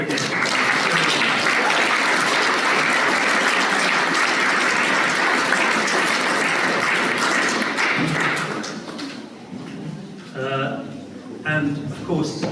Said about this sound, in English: So I'd like to clap again